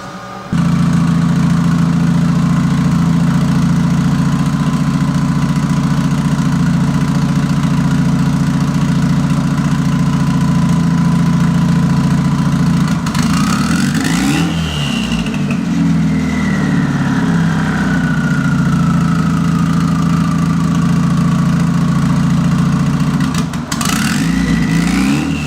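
A car engine idles with a steady low rumble, then revs up sharply twice, the pitch climbing and sliding back down to idle, close and loud.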